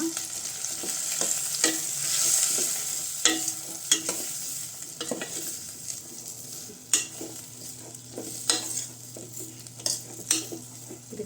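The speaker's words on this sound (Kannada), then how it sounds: "ಇದು ಹಸಿ ಸ್ಮೆಲ್ ಹೋಗೋ ತನಕ ಸ್ವಲ್ಪ ಫ್ರೈ ಮಾಡ್ಕೊಳ್ಳೋಣ" Coriander powder and turmeric fry in a pan for a brinjal gravy, with a soft steady sizzle and frequent scraping, tapping strokes of a spoon stirring close by.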